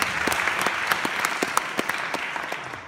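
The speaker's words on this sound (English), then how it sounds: "Let's give him another round of applause." Audience applause fills a jazz concert by the GlenOak Jazz II ensemble after a set featuring saxophone, trombone and trumpet, a steady wash of many hands clapping with a few sharper claps standing out, fairly close and gradually tapering.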